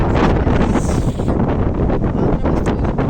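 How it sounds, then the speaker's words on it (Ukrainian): Strong wind roars and buffets loudly across the microphone outdoors, a constant gusty howl with brief rustling. "ви бачите, як вітер завіває"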